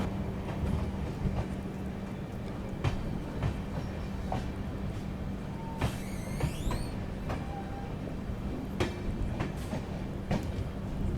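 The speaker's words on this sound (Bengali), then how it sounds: "ছেড়ে দিল আমাদের ট্রেনটি তিরুনেলভেরি জংশন রেলওয়ে স্টেশন থেকে" A train pulls out of Tirunelveli Junction on the Kanyakumari to Chennai Egmore run, heard from on board: a steady rumble with rhythmic clacks and a brief high wheel squeal partway through.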